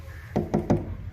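Three quick, evenly spaced knocks on a wooden door made of cedar, close and sharp against a quiet background.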